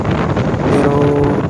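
Strong wind buffeting a microphone while riding on the Agoncillo-Laurel-Talisay road along Taal Lake in Batangas, a loud continuous roaring rush with no speech.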